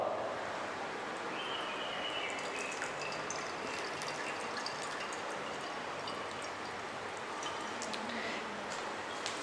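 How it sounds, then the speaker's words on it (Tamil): Water poured from a glass onto muddy soil in a classroom science demonstration, a steady soft wash of pouring and seeping sound running the whole time at moderate loudness. "இத முதல்ல நாம சேற்று மண் அதுல ஊத்துறோம்."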